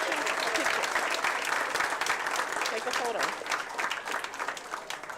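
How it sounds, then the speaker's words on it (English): Audience at a school board meeting giving a loud round of applause, lively crisp clapping throughout with a few voices talking over it as the clapping thins toward the end. "give them a round of applause"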